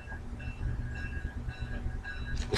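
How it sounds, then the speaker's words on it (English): A train rolls past a house, its low rumbling wheels and rail noise sustained and fairly close, with faint tonal squeals and rattles over a couple of seconds and no speech. "As you can hear, there's a train going by my house now."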